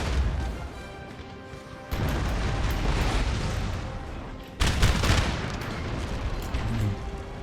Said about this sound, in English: You're shooting into the forest, good.